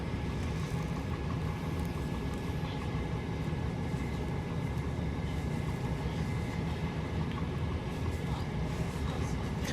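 A train idles at Spondon station platform, a steady low rumble of engine and carriage noise with a faint hum running throughout, no distinct events.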